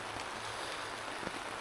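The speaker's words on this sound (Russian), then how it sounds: "дождь не очень сильный и даже иногда перестает, иногда моросит" Soft, steady patter of light drizzle on a tent in Spain, a continuous gentle hiss with faint scattered drops and no voices.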